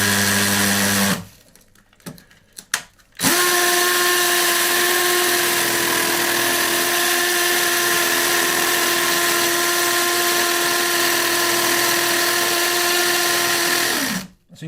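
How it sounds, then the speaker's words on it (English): A hammer drill boring into a wall whines up, stops briefly with a few bumps, then runs steadily at high pitch for about ten seconds before winding down. "I'm going to turn it to hammer"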